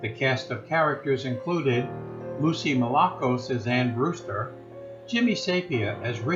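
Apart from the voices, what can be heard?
No everyday noises stand out.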